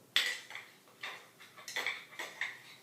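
A spoon or knife clinks against a jar of coconut butter while a chunk is scooped out in a home kitchen during soup preparation. About half a dozen light metallic taps and scrapes come close up at irregular intervals.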